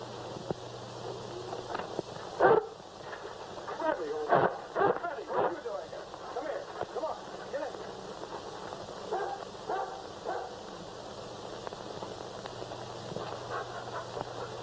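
A dog barks outdoors in an old Western film scene, with a few short, sharp barks among rustling and people talking.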